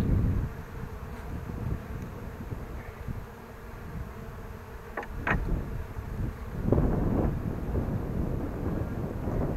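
Honeybees buzz around an open beehive during an inspection, a continuous low droning swarm close to the microphone, mixed with wind rumble and a few brief knocks.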